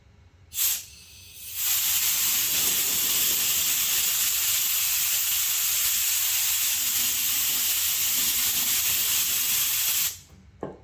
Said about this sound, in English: Put some brake cleaner in there. Psst, psst.